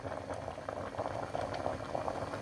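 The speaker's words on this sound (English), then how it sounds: "So let's start by boiling the meat." Meat boiling in a pot of water with onions, garlic and ginger, a continuous close bubbling and gurgling at a steady, moderate level.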